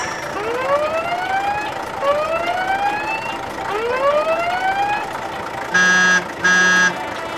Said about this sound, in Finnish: Hinausauto rientää kuorma-auton apuun.